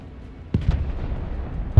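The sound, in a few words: M270 rocket artillery fire in the video game Broken Arrow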